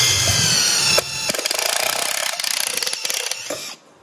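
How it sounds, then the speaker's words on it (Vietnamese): An OEM power drill with a 6 or 8 mm bit bores into iron at moderate speed, a loud close whine that cuts out, then a run of rapid grinding pulses before stopping. "khoan sắt thì tua nó vừa vừa thôi cho đỡ cháy mũi"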